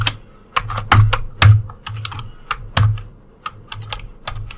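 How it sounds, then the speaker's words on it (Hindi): Fingers type on a computer keyboard, tapping out irregular bursts of loud, close key clicks and thumps with short pauses between them and no speech. "So let's type SVG।"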